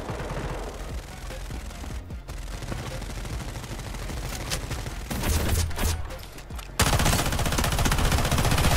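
Sustained gunfire from the shooter game Delta Force: Hawk Ops, with dense overlapping bursts and rapid automatic fire that grows louder and heavier in the final seconds.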